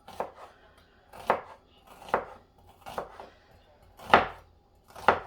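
Parsley is finely cut for a salad, about six soft, rhythmic cuts, roughly one per second, close by and without talk.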